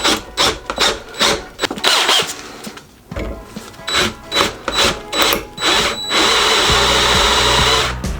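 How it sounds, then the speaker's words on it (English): A power drill fitted with a left-handed drill bit whirs in short repeated bursts, then runs continuously at the end, loud and close, with mechanical rattling, during an axle swap on a Jeep Cherokee XJ. "I got some left-handed, like I said, a left-handed drill bit"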